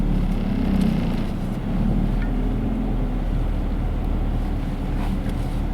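A 1998 Honda Accord converted to a manual gearbox drives along, its steady low engine and road rumble holding constant throughout with some wind buffeting and no talk.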